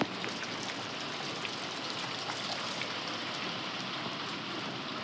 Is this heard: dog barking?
no